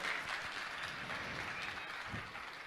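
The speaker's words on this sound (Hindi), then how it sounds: "मैं चाहूंगा जोरदार ताली बजाकर इनका सम्मान करें" An audience at a Jain religious gathering applauds in a continuous, even wash of clapping that holds steady at moderate loudness for the whole stretch.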